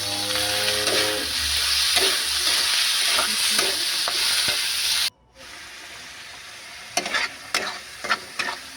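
Tomatoes salted in a hot pan fry with a loud, steady sizzle; after a sudden break the sizzle drops quieter, punctuated by sharp spatula scrapes and knocks against the pan.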